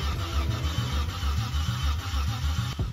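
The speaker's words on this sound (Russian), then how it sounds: "Проводим последние проверки и пробуем впервые крутануть мотор." Nissan drift car engine, a cheap ER-type project car, cranking over on its first start attempt: a steady, near, pulsing low starter-and-engine churn that continues without catching, with no talk over it.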